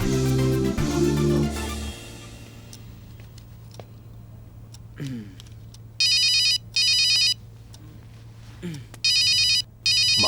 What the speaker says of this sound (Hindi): माँ का फोन आ रहा है।